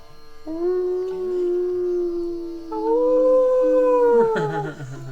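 A person imitates a dog during a yoga session, giving a long, sustained howl that rises in pitch midway and drops off at the end. The voice is loud and close, with another voice briefly joining near the finish.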